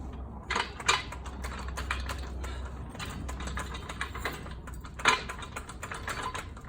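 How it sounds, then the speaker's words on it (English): Metal clicks and ratcheting clatter from a floor jack being rolled into place and pumped up under a 2017 Toyota Tacoma during an Old Man Emu coil spring swap, sharp clanks near 0.5, 0.9 and 5.1 seconds over a low steady hum. "So I'm gonna go ahead and bring my floor jack back under it."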